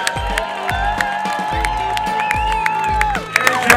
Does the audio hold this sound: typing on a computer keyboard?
no